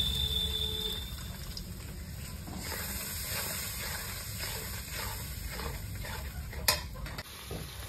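Ground spices with turmeric, cumin, coriander and red chilli sizzling and hissing steadily in a hot pan as a little water is added, with stirring and a brief sharp crackle near the end.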